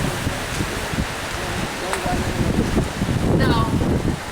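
Strong wind buffets the microphone in steady, roaring gusts along a coastal road on a bike trip in Puglia, with a muffled voice faintly heard beneath the noise.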